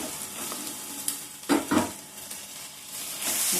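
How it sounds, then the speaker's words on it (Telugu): Fish pieces in a sizzling tamarind fish curry: a steady close sizzle with a couple of sharper stirring scrapes and clatters in the middle, no talking. "సరే మనం ఈ చేప ముక్కలు కూడా ఇందులో వేసాము."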